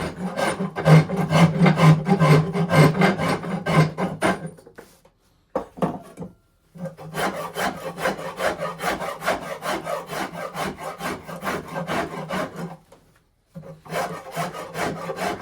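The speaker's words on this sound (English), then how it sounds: "I was over there working away with the file" A hand file rasps across a wooden axe handle in steady, rhythmic back-and-forth strokes, close and clear, with two short pauses between stretches of filing and no talking.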